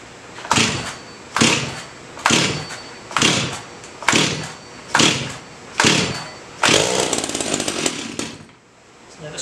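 Gas chainsaw used for cutting firewood, pulled on choke about seven times in sharp rhythmic bursts, then catching and running loud and close for a couple of seconds before dying away.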